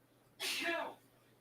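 A single sneeze from a bathroom at the far end of a house, carried down the hall through a screen door: one short, fairly faint burst between stretches of quiet room tone.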